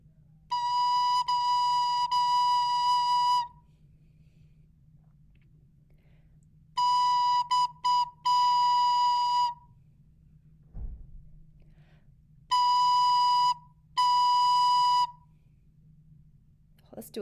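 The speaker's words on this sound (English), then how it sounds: "if you have a recorder, you can echo me on B." Several held recorder tones on B come in separate phrases, steady and clear, with pauses between them and a brief voice in one gap.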